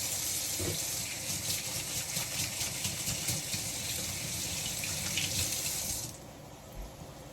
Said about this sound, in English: So wash your hands.